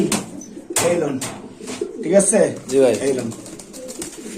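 Pakistani pigeons coo at a pigeon market, soft throaty calls rising and falling close at hand beneath a man's chatter.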